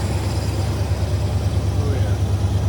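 A car engine fitted with a Holley Sniper idles high near 1,100 RPM, a steady pulsing rumble close by, with voices talking over it.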